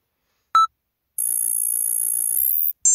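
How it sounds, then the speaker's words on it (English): Electronic beeps and a sustained high electronic tone from an anomaly detector in a haunted-house video game, a single short beep followed by a long buzzing tone and another brief blip, clean and isolated with no talking. "Maybe the anomaly detector can help."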